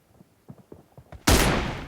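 A few soft, quick taps, then a sudden loud burst of gunfire in PUBG Mobile that cuts in sharply and holds close and heavy to the end.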